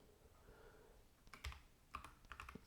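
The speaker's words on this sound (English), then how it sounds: "Let's just type" Keys tapped on a computer keyboard, a quiet scatter of soft clicks that grows busier toward the end, close by with no talking.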